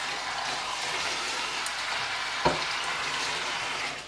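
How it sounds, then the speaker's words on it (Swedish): A kitchen tap runs steadily during hand dishwashing, a close, even hiss of water with one brief knock partway through and the flow tapering off at the very end. "Jag får väl stå så här och öppna och stänga kranen"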